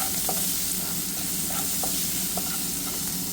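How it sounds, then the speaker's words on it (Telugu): Onions with turmeric fry in a pan while being stirred, and a steady sizzle runs under repeated rhythmic scrapes of the spoon against the pan. "కొంచెం ఫ్రై చేసుకోవాలి. ఆనియన్స్ని కొంచెం పసుపు వేసుకుంటున్నాను"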